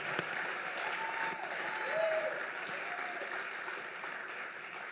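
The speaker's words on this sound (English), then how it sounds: "Go ahead, clap it up for that one." Steady applause from a TEDx audience continues evenly throughout, with a few scattered voices and cheers rising above the clapping.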